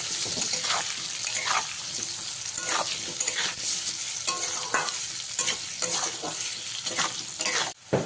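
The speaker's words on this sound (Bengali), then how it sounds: "গ্যাসের ফ্লেমটাকে মিডিয়ামে রেখে আলুগুলো আমি ভেজে নেব" Potatoes seasoned with salt and turmeric frying in oil over a medium gas flame, a loud continuous sizzle broken by regular scraping stirs, close up with no talking.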